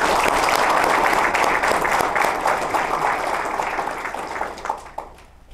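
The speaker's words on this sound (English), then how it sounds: "And I'd like a round of applause for all of you." Audience at a fire department awards ceremony breaks into loud, sustained applause that holds steady and then thins and fades over several seconds, with a few last scattered claps.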